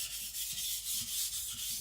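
Steel nakiri blade, a custom Patrik Carlvik knife, drawn across a sharpening stone at a low angle, giving soft repeated rubbing rasps in a steady back-and-forth rhythm, close and quiet with no talk.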